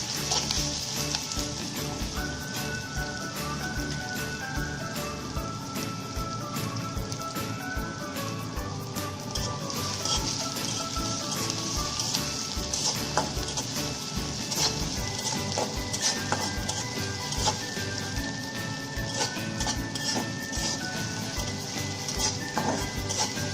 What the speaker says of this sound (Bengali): তেল গরম হয়ে গেছে, আমরা পেঁয়াজগুলো দিয়ে দিলাম